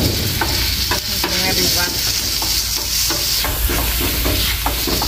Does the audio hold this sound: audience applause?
no